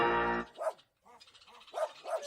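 A dog barks in short, sharp bursts: a single loud bark first, then a few softer yips and woofs after a brief pause, close by at a veterinary clinic.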